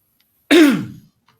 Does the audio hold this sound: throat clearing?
yes